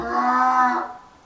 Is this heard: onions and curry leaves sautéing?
no